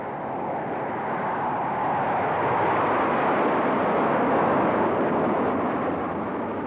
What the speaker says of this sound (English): Airplanes may fly over oceans.